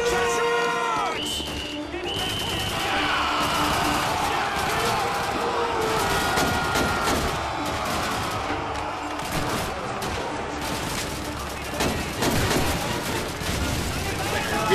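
Gunfire in Call of Duty 2 runs as a long, steady stretch of sharp shots, some in rapid bursts and some far off, with battle noise around them and a player talking over it.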